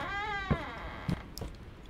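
A cat meowing in the Roblox horror game The Butchery, one drawn-out wavering meow followed by a few short knocking thumps, close and clear.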